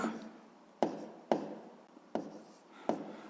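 Pen strokes scratch on paper during a sixth-grade math exercise, with five sharp taps and short scribbles at uneven intervals, close and quiet, with no talking.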